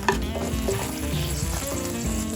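Pearl onions sauté in oil in a Saladmaster 4.5 braiser pan, giving off a dense, even sizzle close up. A few soft stirring knocks sit under it, and no one speaks.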